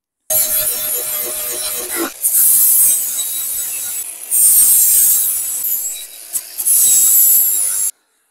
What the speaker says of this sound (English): Let's just grind this bad boy back then.